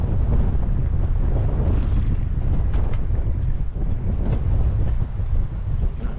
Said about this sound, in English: This wind is still increasing